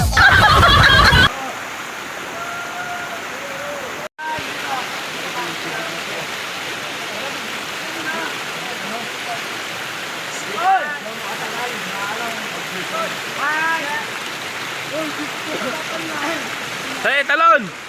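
A waterfall on a cold river produces a steady, full rushing roar throughout. Faint voices and brief splashy accents sit beneath it, and a louder burst of sound appears at the very start.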